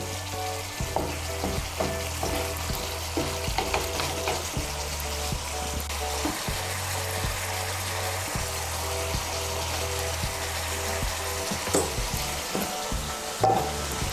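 Garam masala is stirred into a simmering egg malai curry in a pan, and a spoon scrapes and knocks repeatedly over a steady background bubbling and hum.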